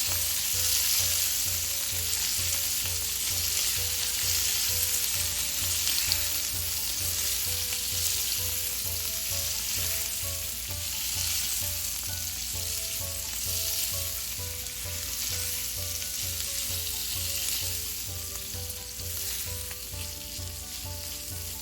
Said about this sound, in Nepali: अब तामालाई केही बेर यसमा भुट्नुपर्छ।